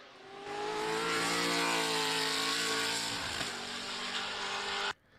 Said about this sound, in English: this is a Ford modular V8 in this car.